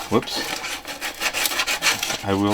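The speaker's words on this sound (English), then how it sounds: "they say you sand it this way" Hand sanding of a homemade pen gives short, scratchy back-and-forth rubbing strokes, close and moderately loud, with a brief hum or voice at the start and the end.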